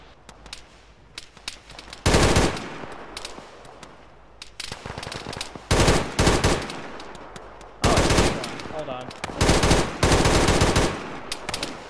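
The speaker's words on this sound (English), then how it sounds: "we've still got that sporadic fire to our southwest" Bursts of automatic gunfire crack out in a military shooter game, loud and close, with several sustained volleys separated by quieter stretches of scattered distant shots.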